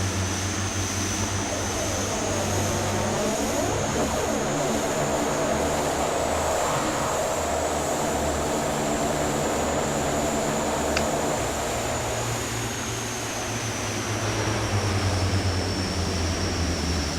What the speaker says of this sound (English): we're at reverse thrust.